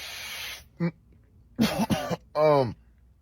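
A few harsh coughs and throat-clearing bursts come in quick succession, close and fairly loud, separated by brief pauses of near silence.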